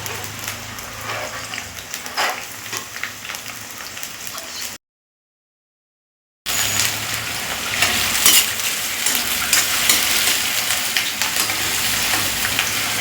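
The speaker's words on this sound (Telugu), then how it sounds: "తర్వాత ఆనియన్స్ అండ్ మిర్చి. సో ఇది మనం ఫ్రై చేసుకోవాలి." Onions and green chillies fry in about 50 grams of oil for chicken pullattu, a steady close sizzle with light utensil scraping, broken by a brief dropout before the frying resumes louder.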